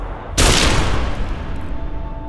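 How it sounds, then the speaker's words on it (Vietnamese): A single loud, deafening cannon boom bursts out suddenly, then a long rumbling roar lingers and slowly fades. "Một tiếng nổ đinh tai nhức óc vang lên, thay mà Lê Quy Mục bị xé toạc"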